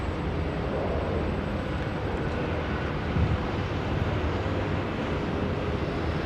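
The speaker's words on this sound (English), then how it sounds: "The Rex departing our screens there off to Dubbo today." A Rex regional airliner departing Sydney Airport for Dubbo, heard as a steady, moderately distant engine rumble mixed with wind noise across the whole stretch.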